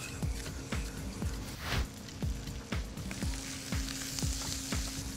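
Red pepper, yellow onion and jalapeno frying in a pan, a constant close sizzle punctuated by a regular series of sharp taps and scrapes from tossing or stirring.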